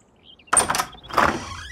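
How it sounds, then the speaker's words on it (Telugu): A door being opened indoors, heard as two close, sharp bursts of rattling, sliding clatter about half a second apart against a near-silent background. "డోర్ తీ"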